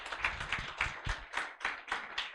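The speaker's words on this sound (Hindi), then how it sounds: "ताली बजा के प्रभु का धन्यवाद करें।" A church congregation claps hands in praise during a Sunday service, eight or nine sharp, evenly spaced claps in a steady rhythm, close and fairly loud, with no talking over them.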